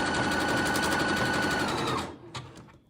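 A sewing machine stitching fabric in a zigzag, heard as a fast, even, motorized chatter of needle strokes, close and loud, then stopping abruptly followed by a couple of soft knocks.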